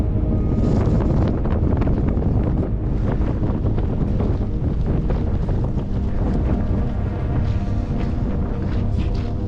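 Strong wind buffets the microphone on a rainy mountain stage of the Camino Primitivo pilgrimage trail, a loud, continuous low roar with gusty rumbling throughout and no voices.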